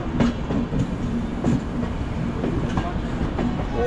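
A passenger train leaving Howrah and crossing what seems to be a bridge, with a loud continuous rumble and rhythmic clickety-clack of the wheels close by.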